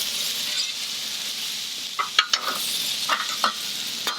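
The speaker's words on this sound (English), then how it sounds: "Hear that nice sizzle." Breakfast sausage sizzles steadily on a Camp Chef griddle with loud continuous frying, broken by several clinks and scrapes of a metal spatula. No voices.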